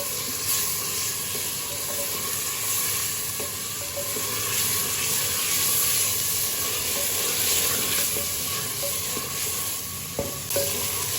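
Half a kilo of chicken frying with onion and ginger-garlic paste in a pan, a loud, continuous sizzle with steamy hiss and occasional scraping stirs, close up and without talk.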